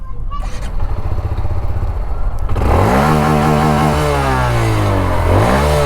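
A Honda Grom motorcycle engine starts partway through and then idles and revs, rising and falling in pitch close by; a scuffle of handling noise comes before it fires up.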